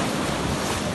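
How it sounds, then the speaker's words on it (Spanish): High ocean waves break at Palomino beach in La Guajira, Colombia, as a dense, steady wash of surf noise mixed with wind buffeting the microphone. "las olas son bien altas"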